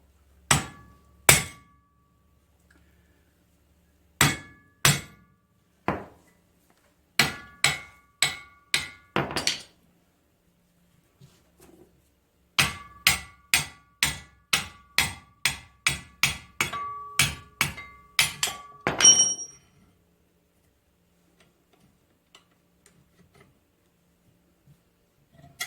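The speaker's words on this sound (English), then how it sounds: "you want the right size hammer for the job" A hammer strikes the gib key of a seized flywheel on an old McCormick Deering engine in sharp metallic blows, some single and some in fast rhythmic runs, with quiet pauses between groups.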